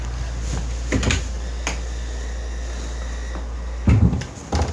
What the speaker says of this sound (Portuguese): o som de porta abrindo